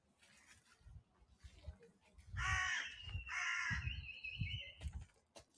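A crow caws loudly from up in the trees at Perivale Wood, with several harsh repeated calls standing out over faint background rustle.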